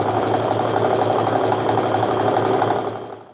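A sewing machine chain-pieces quilt strip sets, running in a continuous, loud, even mechanical hum and rapid needle rattle that slows and stops just before the end.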